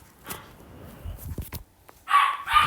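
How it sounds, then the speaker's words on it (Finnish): A dog barks a few times from a distance, quiet at first and then louder, sharp yips close together near the end of the short stretch, with no one speaking over it. "Tuolla haukkuu mun koira."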